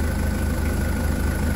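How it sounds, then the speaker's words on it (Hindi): A Toyota BJ40 engine idles steadily just after starting, giving a low, even rumble with a regular pulsing throb that stays constant throughout with no voices. "ये गाड़ी जो है स्टार्ट हो गई है"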